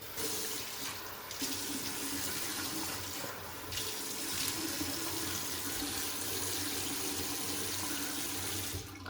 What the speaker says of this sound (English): Let's wet the face and we'll get to lathering.